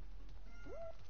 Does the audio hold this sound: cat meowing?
yes